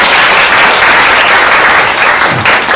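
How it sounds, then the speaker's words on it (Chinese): A loud, dense wash of audience applause at a creative-awards sharing session, many hands clapping together continuously and close, with no speech over it. "那你们要不要给我一点掌声？"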